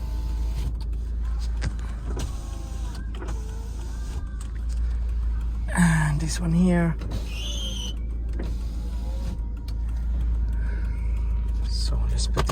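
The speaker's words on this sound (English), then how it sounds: "And as I said, the windows are working." Electric power windows of a 2000 Volvo V40 2.0 automatic estate whir up and down inside the car over a steady low engine idle rumble, with someone talking briefly.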